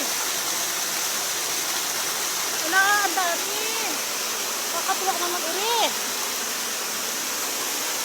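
A waterfall at a falls pours steadily as a broad, constant rushing hiss that fills the whole scene, while a person talks briefly over it in the middle.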